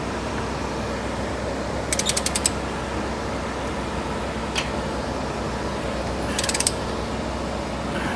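Lug nuts on Cybertruck wheel spacers being tightened with a wrench: two brief bursts of rapid ratcheting clicks and a single click between them, heard alone over a steady background hum.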